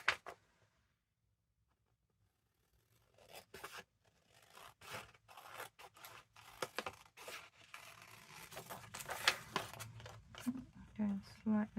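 Scissors cut through paper while a pocket page with flip-outs is trimmed for an ephemera craft project: quiet at first, then a run of close, irregular snips and rustles, with a voice talking at times.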